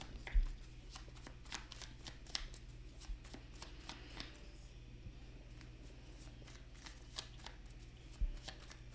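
Oracle cards are shuffled by hand in a steady run of soft riffles and light taps, close and quiet, continuing for several seconds with no other sound.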